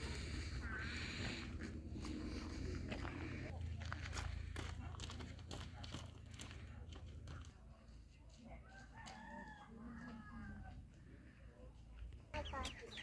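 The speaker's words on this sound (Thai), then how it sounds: "ครับที่นี่มีไก่ อันนี้เขาเรียกไก่อะไรจอย ไก่แจ้เหรอ" Bantam chickens cluck and crow nearby outdoors, with short calls scattered over rustling and footsteps while people talk throughout.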